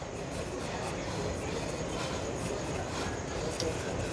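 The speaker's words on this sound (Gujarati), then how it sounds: "આલ્કો એટલે કે ડીઝલ લોકોનો અવાજ તમને આવતો હશે" An ALCO diesel locomotive idling at a railway platform, a steady low rumbling drone that stays even and continuous throughout, heard at moderate distance amid station ambience, with no clear speech.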